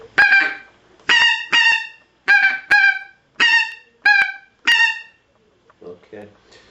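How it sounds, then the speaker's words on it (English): A pinkfoot goose call blown in a string of short, low honks, about eight in all, loud and close, with a brief pause partway through. "So you can hear there, quite a low call."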